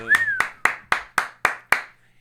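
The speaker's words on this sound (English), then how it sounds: "Let's give her a round of applause." An audience at a comedy show claps in a sparse, slow rhythm of about six or seven sharp, evenly spaced claps, close and distinct, following a brief bit of vocal sound at the start.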